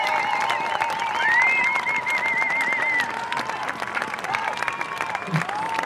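A crowd applauding and cheering for Paul Watson and Lamia Essemlali, steady massed clapping with whistles and shouts, loud at first and easing slightly partway through.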